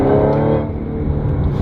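An Audi S5 B8.5 with a single pulley and 6-speed manual gearbox accelerates hard, its engine loud and close in a steady strained drone that eases slightly partway through.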